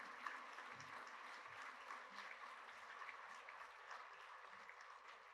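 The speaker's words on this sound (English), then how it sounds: "Can everyone please give these award winners" A school speech day and prizegiving crowd gives award winners a final round of applause, faint and distant, a soft continuous patter of hands in a large hall.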